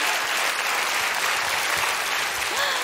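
An audience at a celebrity roast event applauds, a steady, full burst of clapping from the crowd that holds evenly for a few seconds.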